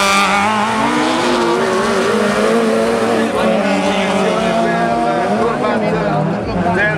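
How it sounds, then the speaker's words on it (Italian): Autocross race car in the Group C final at Maggiora passes on the penultimate lap, its engine roaring steadily with rising and falling pitch throughout, loud and continuous while an announcer commentates over it. "Ecco che arriva ancora Hop in chiusura di questo penultimo giro"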